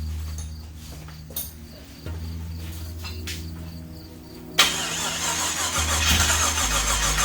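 Buggie Blazer dune buggy engine idling roughly, then revving up into a louder, harsher running roar, close by, with a few clicks and knocks and no talking.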